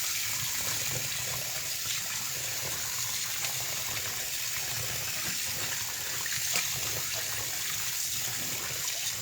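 Water runs in a steady continuous gush while intestines are rinsed, a close, unbroken hissing flow with no talking.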